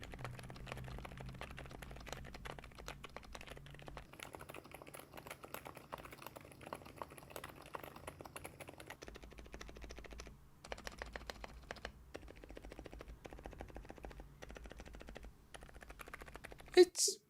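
Steady typing on a keyboard with Cloud silent tactile switches, made for quiet offices: a dense run of soft, muted keystroke clicks, close and fairly even in pace, with a few sharper knocks near the end and low background hum throughout.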